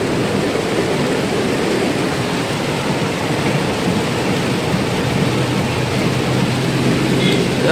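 Heavy rain pours on the flooded streets of Junagadh city, a steady dense hiss of falling water with a low rumble underneath, continuous and fairly loud throughout.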